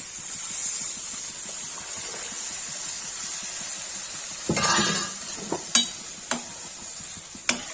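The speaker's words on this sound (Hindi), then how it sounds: "दाल का तड़का हो गया, इसमें दाल डाल देंगे" A steady sizzle of frying tadka is interrupted by a whoosh as cooked dal is poured into the hot pan, followed by clanks of a spoon stirring against metal.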